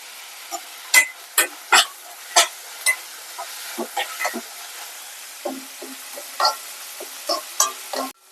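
Garlic and onions sautéing with curry leaves in a pan, heard as a steady soft sizzle broken by repeated sharp scraping stirs at an irregular rhythm, close up with no talking.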